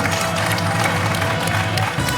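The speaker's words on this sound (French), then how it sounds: "Et le public debout pour vous applaudir, Quentin." A studio audience at a French quiz show final applauds and cheers on its feet, a dense, steady roar of clapping and crowd noise filling the whole moment at close range.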